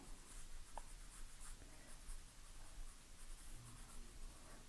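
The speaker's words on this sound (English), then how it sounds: "I love the 4B. It's just like an overall sketching pencil." A soft Staedtler 4B graphite pencil sketches on paper up close, making quiet, continuous scratchy strokes with a few brief taps, faint and steady with nobody speaking.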